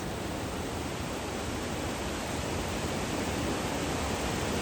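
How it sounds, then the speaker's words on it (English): A powerful waterfall on a mountain trail roars as a dense, constant rush of broadband noise, loud and close, steady without pause. "finally get to the waterfall"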